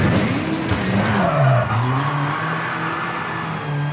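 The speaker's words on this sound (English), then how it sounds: "Brakes are abysmal in that first corner. Every time we're locking up." Tyres squeal and skid as the brakes lock up on a rally car in V-Rally 4, a long wavering screech over a steady engine drone.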